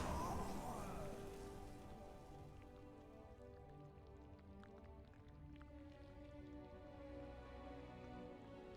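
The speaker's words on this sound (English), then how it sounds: "That water sounds kind of gross." Squelchy water in a StarCraft II match gives a faint, continuous, wet bubbling and dripping that stays low and steady in the background.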